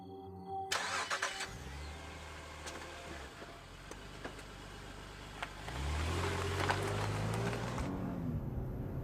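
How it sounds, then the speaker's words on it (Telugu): A car engine cranks and catches, then settles into a steady idle, with a later rise in revs, heard from inside the car with no voices. "కార్ స్టార్ట్ చేయరా"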